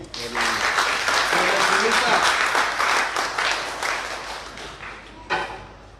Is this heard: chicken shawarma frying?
no